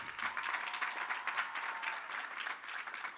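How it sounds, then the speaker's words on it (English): Audience applause at a 2019 Lehman College graduation ceremony, honoring a speaker who is a CUNY alumna; steady, dense clapping from a large crowd that fills the hall continuously without breaks. "Let's give her a round of applause."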